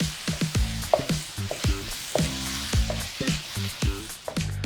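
Gochujang cream sauce being stirred in a hot pan, with repeated scraping strokes of a utensil against the pan over a soft, steady sizzle, close and rhythmic.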